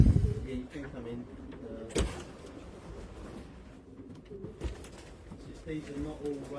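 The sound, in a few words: racing pigeons cooing in a loft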